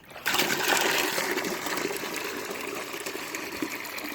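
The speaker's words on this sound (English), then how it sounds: "Use the remaining water I've got and fill up the bucket." Water gushes steadily into a 10-litre bucket outdoors in the woods, a loud continuous pour that starts abruptly and runs on without pause, close to the listener with no talk.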